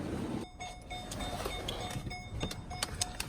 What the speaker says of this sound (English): Alright, besides that annoying dinging bell,